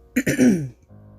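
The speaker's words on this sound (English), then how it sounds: "still got a little bit of a cough" One short, close throat clearing, a rough guttural rasp that ends quickly and leaves quiet room tone behind it.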